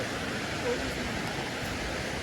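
A waterfall roars steadily with dense, even rushing water noise filling the whole clip, unchanging in loudness and heard fairly close.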